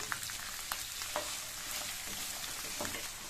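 Cut potatoes fry in oil with garlic for a potato spring onion masala, making a constant close sizzle broken by occasional light clicks and scrapes from stirring, with no voices.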